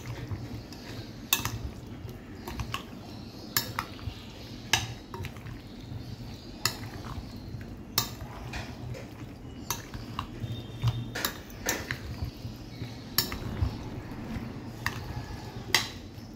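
Metal spoon clinking and scraping in a pot while chicken pieces, carrots and whole garlic cloves are stirred together for a Turkish-style chicken shashlik kebab, with steady repeated taps and clatter throughout and no talking.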